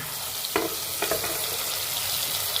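Tomatoes and vegetables sizzle in a frying pan while a spoon stirs them, giving a few sharp scraping knocks over a constant hiss, close by.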